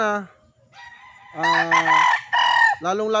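A gamefowl rooster crows loudly nearby, several long harmonic calls in quick succession with brief gaps between them.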